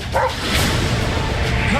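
A dog barks and yips in a movie trailer, a short close burst of sharp barks over a busy mixed soundtrack.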